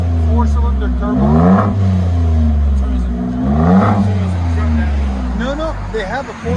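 A Ford F-150 XLT Sport with the 3.5L EcoBoost engine revs its exhaust in repeated deep swells, loud and close, while people talk throughout.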